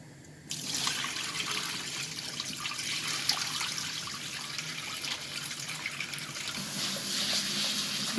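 Rinse water is poured off rice in a kitchen, a steady splashing, trickling stream that starts abruptly and runs continuously at moderate volume, close by, with no talking.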